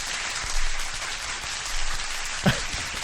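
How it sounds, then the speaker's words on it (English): An applause sound effect played during a live stream gives a continuous, rain-like hiss of clapping at a moderate level, with a couple of soft swells and a brief thump near the end. "A round of applause for the Glove Touch."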